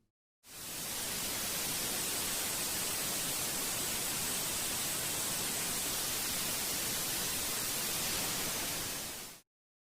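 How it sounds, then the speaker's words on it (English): A steady, intense roar of broadband noise from a liquid-fuel ramjet engine burning experimental biosynthetic missile fuel in a ground test, loud and unbroken for about nine seconds before cutting off. "That intense white noise is coming from a new experimental biosynthetic missile fuel"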